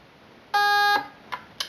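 An airsoft mosfet gives a long, steady electronic confirmation beep of about half a second, close and clear, followed by two brief faint blips.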